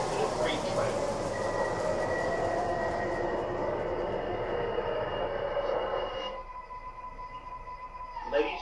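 A model MTH R142a New York City subway train of the 4 Lexington Avenue Express runs with a steady rumbling roar and a thin whine, then slows and quiets as the rumble drops away.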